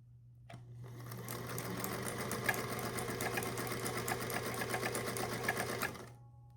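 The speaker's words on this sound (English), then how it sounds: "I'm just gonna go do a sample of in-between stitches" A Singer Featherweight 221 sewing machine stitches steadily at about 12 stitches per inch, a close, even mechanical whir with a constant hum and rapid rhythmic ticking that starts abruptly and stops near the end.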